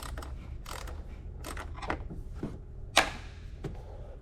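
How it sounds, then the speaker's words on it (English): Ratcheting wrench clicking during a tune-up on a Kia Sedona, a scattered series of sharp metallic ticks and clacks at close range, irregular in rhythm with one louder snap near the end. "Good old ratcheting wrench."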